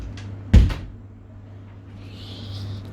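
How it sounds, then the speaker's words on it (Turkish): A door swings shut with a single solid thud at close range, followed by quiet room tone and a faint hiss afterward. "Hemen kapıyı kapatalım."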